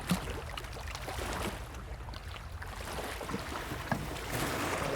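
A rowboat moved by a rowing steward on open water during a dog water-rescue trial, with broadband wind and water noise, faint knocks and splashes, and a steady rushing wash throughout.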